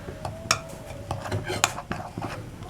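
A spoon clinks and scrapes around a bowl while milk powder, semolina, flour and baking powder are mixed, quick uneven metallic taps close by, with a faint voice underneath.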